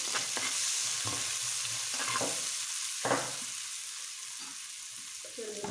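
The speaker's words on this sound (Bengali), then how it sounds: "পেঁয়াজ কুচি দিয়ে নিচ্ছি। দিয়ে আবার ভালো করে নেড়ে নিচ্ছি।" Two large chopped onions fry in hot oil for a hilsa fish broth while being stirred, a low steady sizzle broken by soft scraping strokes of the spoon in the pan.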